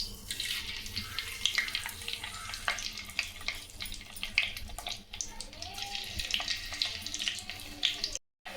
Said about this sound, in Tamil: கடுகு நல்லா பொரிஞ்சிடுச்சுங்க